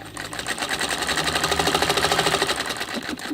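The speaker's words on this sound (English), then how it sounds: "This is a quilter's dream, this machine, because it will sew and sew and sew." A White Rotary sewing machine running fast at its largest stitch length, a loud, even, rapid mechanical chatter of needle strokes that continues steadily and nearly alone.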